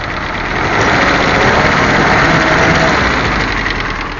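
A 1951 Willys CJ3A jeep engine, just started after its cylinder head was refitted, runs steadily at idle, loud and close, a dense continuous rumble with no talk over it.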